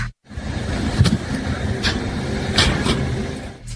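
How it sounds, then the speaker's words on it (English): Staged crash on a road buckling under a car: a sharp snap, then a heavier impact as the airborne car lands, both over a continuous engine and road rumble. "the first snap sound is the road buckling. The second sound is the car crashing after going airborne"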